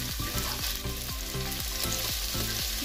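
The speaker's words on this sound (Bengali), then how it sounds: "মাংসটা ভাজা হয়ে গেছে, এর মধ্যে আমি প্রথমে গাজর কুচি দিব" Chopped carrots being stir-fried with chicken for chow mein, a loud, continuous sizzle under brisk, evenly spaced scraping strokes of a spatula, with no voices.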